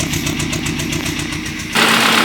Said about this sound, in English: You can hear the exhaust kind of backfiring as well.